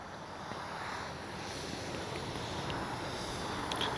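Strong wind buffets the microphone at an RC airplane flying field, a continuous rumbling gusty roar that builds slightly toward the end, with no talking.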